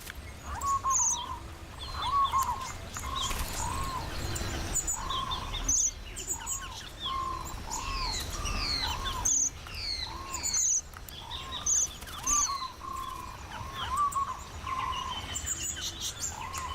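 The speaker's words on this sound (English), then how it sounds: "like this red-browed finch" Red-browed finch calls in the Australian wild during a courtship display, high thin chirps and tweets repeating steadily over a background of other faint bird calls and insect hum.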